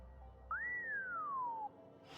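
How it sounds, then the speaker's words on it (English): A character in The Outer Worlds gives a single whistle, a quick rising note that glides slowly downward over about a second, clear against a quiet background. "I didn't know you could whistle, Sam."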